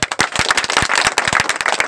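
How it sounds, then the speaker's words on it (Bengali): Audience clapping at a community anti-drug gathering, a short burst of sharp, uneven handclaps from a small group, close and loud with no talk. "তাহলে হাততালি কই?"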